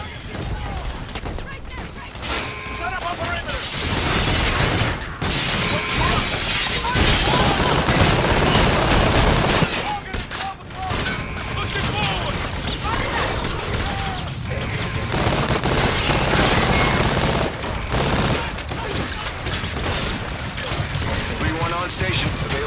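Aircraft guns strafe in a Call of Duty: Infinite Warfare mission, loud sustained bursts of rapid fire and booming impacts with mechanical clatter, interrupted by brief gaps, with radio chatter mixed in.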